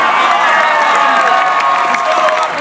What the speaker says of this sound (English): Give a big round of applause for coming out!